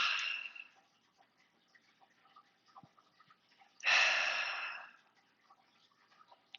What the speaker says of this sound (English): In through your nose, out through your mouth, sort of an audible exhale.